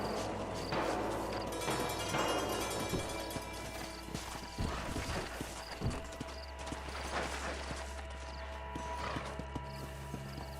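Horse hooves clip-clop steadily in Red Dead Redemption, with an occasional whinny and ambient game sounds throughout; no one speaks over it.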